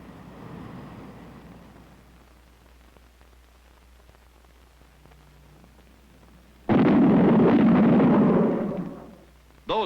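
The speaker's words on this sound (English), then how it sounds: "Those bangs were shock waves from an aircraft in transonic flight." Shock wave bangs from an aircraft in transonic flight: a soft hissing rumble gives way to a sudden loud, sustained blast lasting a few seconds, and another loud burst begins at the very end.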